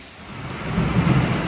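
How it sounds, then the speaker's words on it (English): Rain falling on a forest hiking trail in July with a low rumble of thunder swelling and rolling through, steady hiss of rain over the deep growl. "Now it's raining, and that's fine."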